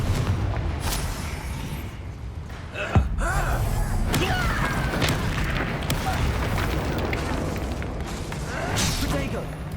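In Hogwarts Legacy, a Confringo fire spell detonates with a sharp booming blast about three seconds in, set against a dense wash of duel effects and voices.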